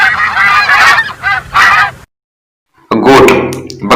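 A white goose cackles in loud, harsh honking bursts close by, several rapid calls, a brief silent gap, then more honks.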